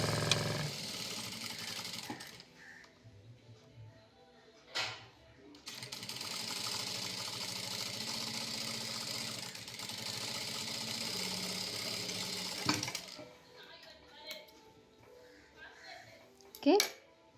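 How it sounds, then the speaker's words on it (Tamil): A sewing machine stitches a half-inch seam on the back part of a garment, running in two long steady bursts separated by short pauses, with someone talking quietly between runs. "ஸோ அந்த 1/2 இன்ச்சுக்கு இங்கே நம்ம ஸ்டிச் பண்ண போகிறோம்."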